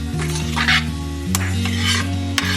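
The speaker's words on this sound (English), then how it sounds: "You mix it around. Let that get some flavor in the shrimp." Shrimp for Mexican al gobernador tacos being stirred in a pan, a steady scraping of utensil against metal over a low sizzle, with a few clinks from cutlery and cookware close by.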